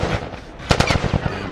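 Gunfire in The Last of Us video game: a quick cluster of sharp shots cracks out over a low background, several rapid reports in close succession.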